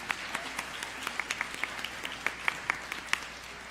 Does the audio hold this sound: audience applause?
yes